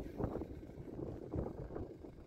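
Icy wind at about 8 degrees buffets a tent campsite on a motorcycle trip through Afghanistan. Low, rumbling gusts batter the microphone in uneven surges that rise and fall throughout.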